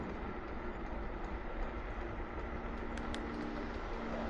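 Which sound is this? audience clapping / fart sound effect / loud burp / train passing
train passing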